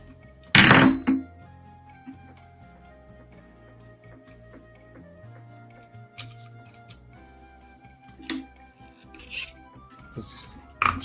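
Car wheels being shifted aside on a workshop floor: one loud, heavy thunk near the start, then a long quiet stretch with a few softer knocks and scrapes later on.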